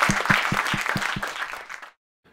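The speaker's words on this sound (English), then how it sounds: "let's give a big round of applause for everyone mentioned here" A short burst of audience applause from a live indie music spotlight show in Rochester, with dense, steady clapping that stays close and loud, then cuts off abruptly into silence.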